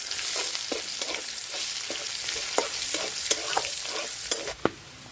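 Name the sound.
chopped onions frying in oil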